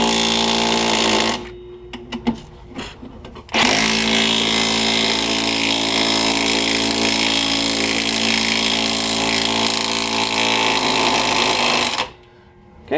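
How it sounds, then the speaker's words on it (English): A pneumatic impact wrench hammers loudly while retightening a strut bolt on a Pontiac Grand Am during a rear quick strut installation, with a short burst, a choppy pause, then a long sustained rattling run that cuts off near the end. "We're just going to take our impact, retighten the bolt."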